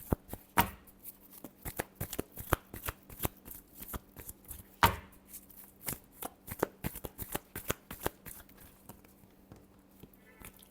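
Tarot cards are shuffled close up in quiet surroundings, a rapid run of crisp riffling slaps and taps with brief pauses between bursts.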